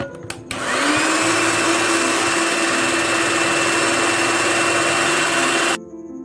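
An electric mixer beats cream with powdered sugar, starting after a few knocks and then whirring loudly and evenly for about five seconds before cutting off.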